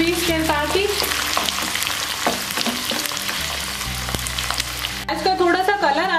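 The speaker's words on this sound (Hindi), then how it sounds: "इसको हल्का सा हम भून लेंगे प्याज को भी इसके साथ ही।" Sliced onion fries with garlic in a kadhi pan, a loud continuous sizzle with stirring scrapes throughout and faint tonal background sounds over it.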